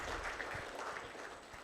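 Audience applause at a supplier development workshop, a steady wash of many hands clapping at moderate distance, continuous through the whole moment without voices on top.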